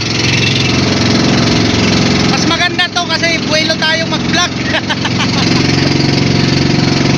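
Loud diesel engine of a fast boat at sea, a constant heavy drone running throughout, with someone talking over it midway.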